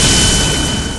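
Missile launches and blasts in a Hindi-dubbed Hollywood action film, a loud sustained roaring boom that fills the whole moment and slowly fades slightly, with no voices over it.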